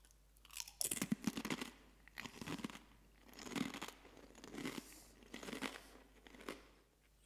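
Someone eats Lay's Gourmet Vintage Cheese & Paprika crisps, with close, repeated crunchy bites and chewing in a steady rhythm and a faint bag crinkle, no talking.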